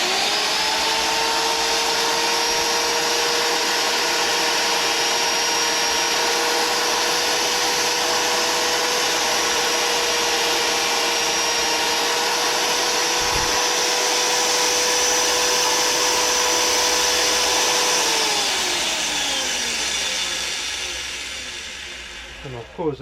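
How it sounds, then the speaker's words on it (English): A power drill bores into wood for a carriage stop, its motor whining at a steady, loud pitch for about eighteen seconds before spinning down to a stop. "First bit of drilling."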